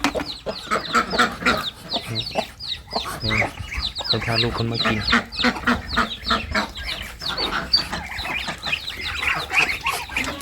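A flock of chickens clucks busily while being fed, with dense overlapping calls close by and a person talking over them.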